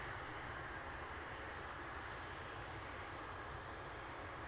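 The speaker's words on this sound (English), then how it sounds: "Heading to Malta, Ryanair flight 3882. This is 737 MAX 8." A Ryanair Boeing 737 MAX 8 at Luton Airport gives a steady, broad engine roar, constant and fairly distant, with no pauses across the stretch.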